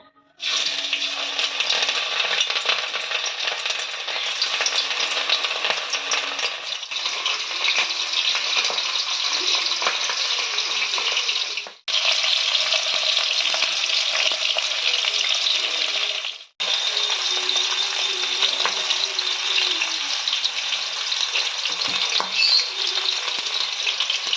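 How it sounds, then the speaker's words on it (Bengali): Cauliflower florets frying in hot white oil in a wok give a steady, loud sizzle that runs almost without pause, broken by two brief drops in level. "এবার ফুলকপিগুলো আমরা ভেজে নেব।"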